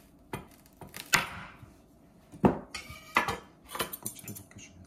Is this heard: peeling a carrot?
yes